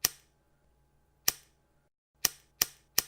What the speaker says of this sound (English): That is the sound of a lighter lighting.